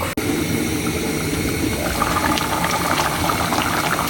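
Potato curry made with small round local potatoes bubbles and boils steadily in a covered pot, a continuous close, loud simmering hiss with soft popping bursts and no talking.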